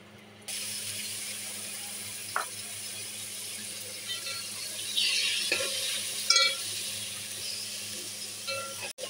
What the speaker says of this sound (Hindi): ये देखिए हमारा चिकन भी साथ ही साथ फ्राई हो रहा है